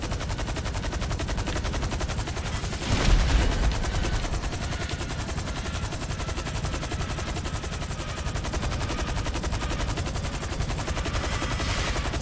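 Rapid, sustained automatic gunfire from GTA V rattles continuously, with a louder burst of explosive impact near the start, dense and unbroken throughout.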